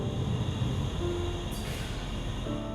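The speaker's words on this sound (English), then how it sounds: "We board the arriving train." In the video game Underground Blossom, a train arrives at a station with a steady rumbling roll and a brief hiss. A faint tone joins near the end, and no speech is heard.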